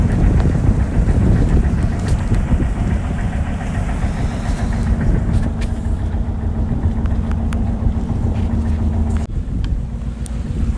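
Sailing boat engines idling and running steadily, a continuous low mechanical drone with wind noise buffeting the microphone throughout.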